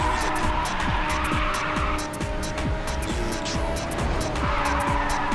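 Race cars skid and drift in the video game Ridge Racer 6. Loud, continuous engine roar carries repeated tire squeals and rapid rhythmic whooshes of cars passing close by.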